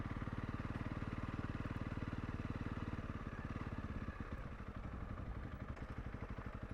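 Honda CRF 300 Rally motorcycle riding through a small town, its single-cylinder engine a steady close throbbing drone with rapid firing pulses that loosen and slow slightly partway through as the throttle eases.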